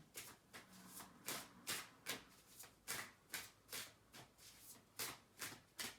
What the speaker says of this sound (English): we will just shuffle the cards one more time and see what's showing up for us